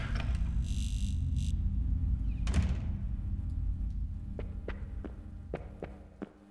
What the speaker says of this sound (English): I feel like I'm hearing a heartbeat